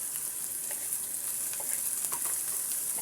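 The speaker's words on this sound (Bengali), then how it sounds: "এবার আমি হলুদ এবং মরিচের গুঁড়ো, কাঁচামরিচ, পেঁয়াজ এগুলো সুন্দর করে ভেজে নেব" Chili powder, turmeric, green chili and onion sizzle in a hot pan with oil, a steady bright crackling hiss dotted with small pops, continuous and close with no voices.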